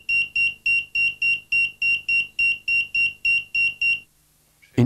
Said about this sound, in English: The receiver can be connected up to an extra bell, which alarms you directly at your bedside